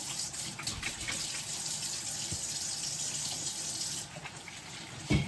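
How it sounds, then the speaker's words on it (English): Water runs steadily from a kitchen tap while hands are washed beneath it, a continuous close splashing hiss with small shifts in the flow near the end. "I'm going to wash my hands first"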